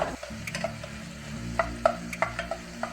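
Tomatoes stirred in a cooking pan for an upo and sardine dish, a spoon scraping and clinking against the pan in a loose irregular rhythm over a soft sizzle.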